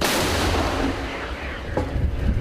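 An artillery gun fires, a powerful low boom that rolls out into a long, loud rumbling decay, with fainter thuds following.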